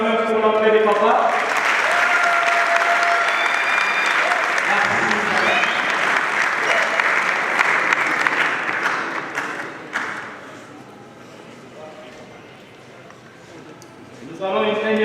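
A crowd at a Kinshasa university rally applauds the entrance of the elders, with loud, sustained clapping for about nine seconds before fading to a low murmur, and brief clapping returns at the end.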